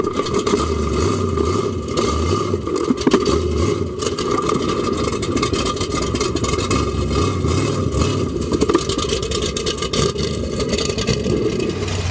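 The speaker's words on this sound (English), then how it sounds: "the noise and the destruction of these monster trucks crushing across these cars" Heavy monster truck engines rumble and rev continuously as they crush cars at an off-road truck show, with scraping and crunching metal noise over a steady roar, loud throughout.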